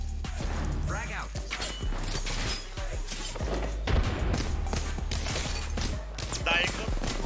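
A frag grenade explodes in Apex Legends amid a busy firefight, with sharp bangs and crashes over a dense rumbling game mix and no clear speech.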